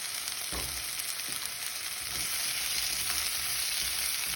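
Tomatoes dropped into a hot frying pan for camarones a la diabla sauce give a loud, steady sizzle and hiss, with a brief clatter near the start as they land and stir.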